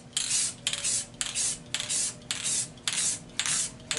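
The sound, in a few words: spraying lacquer from a spray can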